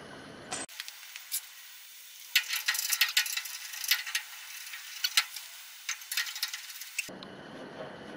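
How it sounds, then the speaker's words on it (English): A ratchet tightens nuts down on threaded rod in a shop, giving a run of close, sharp clicking and ticking in irregular bursts with brief pauses. "Give me a ratchet and tighten these down"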